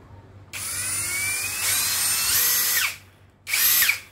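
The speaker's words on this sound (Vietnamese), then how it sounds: "khoan con này khoan tốc cao nè" 16.8V Japanese-market cordless drill spinning at high speed, a bright, loud motor whine that shifts pitch as it spins up, cuts off, then returns for a shorter second burst.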